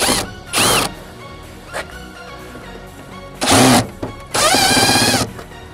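A power driver removes screws from the center section of a 1966 Ford Thunderbird in short whirring, ratcheting bursts, with one brief blip between them and two longer runs near the end, loud and close.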